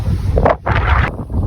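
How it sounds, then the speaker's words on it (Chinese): Strong gusts of wind roar across the microphone in loud, uneven bursts, briefly dropping away before surging back. "这个风也太大了"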